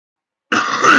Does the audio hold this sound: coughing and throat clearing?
yes